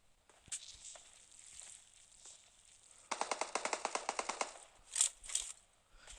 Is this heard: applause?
no